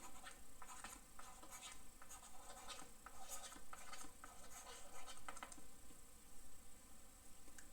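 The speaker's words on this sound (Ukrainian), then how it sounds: "Пишемо відповідь." Handwritten answer being written out, a pen or pencil scratching steadily on paper in short strokes, quiet and close with no talk.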